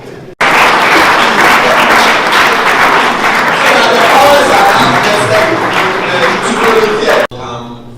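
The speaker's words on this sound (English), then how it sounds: "you have to clap hard" Loud, dense applause from an audience at a college book launch swells suddenly and holds steady for several seconds, then cuts off sharply, with faint crowd murmur mixed in.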